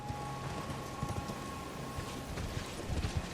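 Horse hooves clip-clopping in the video game Elden Ring, a steady rhythmic trot over a constant background hum and faint ambient wind, with no talking.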